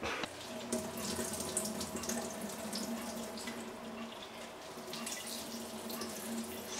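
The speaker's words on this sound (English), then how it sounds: "So going to do the same and just squeeze all the water out." Water squeezed out of grated zucchini streams and splashes steadily into a sink at close range, a continuous wet rush with scattered drips.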